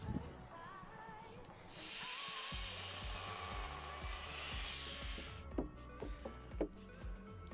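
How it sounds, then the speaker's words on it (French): Wooden deck boards for a terrace are sawn by hand, a close rasping hiss with rhythmic strokes under a low steady background, ending in a few sharper knocks. "Je coupe, je perce, puis je visse."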